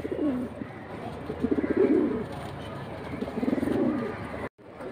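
Several pigeons at a Bangladeshi pigeon market, including a Bezi breed pair, coo in repeated low rolling bursts, fairly close and steady, with a brief dropout near the end.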